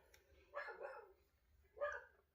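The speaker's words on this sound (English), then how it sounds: "Why is he barking out now?" A dog barks indoors in a home game room, two separate, fairly faint barks spaced more than a second apart over a quiet background.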